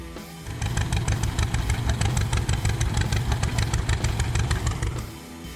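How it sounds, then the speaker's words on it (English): A John Deere Model D tractor's two-cylinder, 465-cubic-inch engine runs steadily and loudly at close range, its low pulsing exhaust beat sustained evenly for several seconds before easing off at the end. "Engine, 2-cylinder,"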